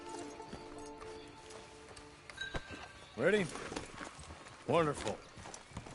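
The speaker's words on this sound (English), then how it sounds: "Get on the horse there." Horse hooves clip-clopping in the video game Red Dead Redemption, faint irregular steps under background sound, with two short bursts of speech from a man.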